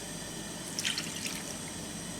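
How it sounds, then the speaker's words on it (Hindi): Water is added to chicken cooking in a pan, heard as a faint, brief trickle and splash over low background hiss. "थोड़ा सा मैं पानी ऐड करने लगी हूँ।"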